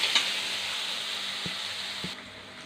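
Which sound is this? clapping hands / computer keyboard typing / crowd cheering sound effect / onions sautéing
onions sautéing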